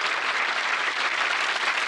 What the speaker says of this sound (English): Do we have an applause sound effect here?